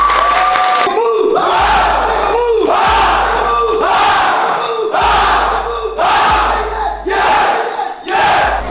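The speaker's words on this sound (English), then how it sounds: "Can we give the guys who actually put this whole event together and planned this whole thing out a big round of applause?" A large crowd roars and cheers in repeated rhythmic surges about once a second, loud and close, like a chanting audience at a live tour event.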